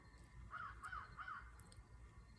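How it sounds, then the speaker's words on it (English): A crow caws three times in quick succession, faint and distant, over quiet outdoor ambience. "There's a crow."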